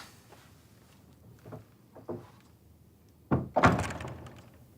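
A heavy door slams shut in a video game set in an Ottoman sultan's palace, a few faint knocks and steps first, then two loud close thuds near the end.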